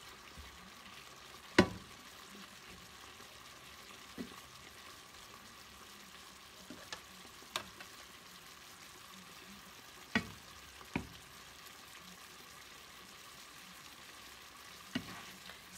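Pasta with calamari and artichokes cooks in a pan as a faint, low sizzle under scattered sharp taps and clinks of a utensil, with no talking.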